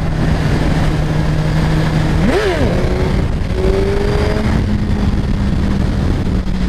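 A 2017 Suzuki GSXR1000 motorcycle engine riding in fourth gear, giving a loud, steady close-up drone that briefly rises and dips in pitch before settling back to an even pull.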